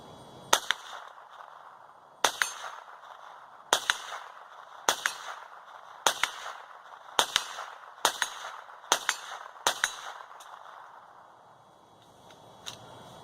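A Henry AR-7 survival rifle fires CCI .22 rounds in about nine sharp, evenly spaced cracks over several seconds, ringing loud and close, with quiet ambience after the last shot.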